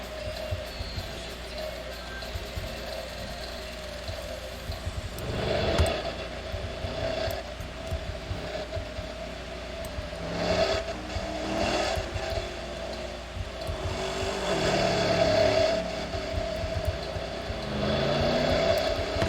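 2015 Range Rover engine while driving, a steady moderate drone with a few swelling revs and passing whooshes, fairly quiet overall.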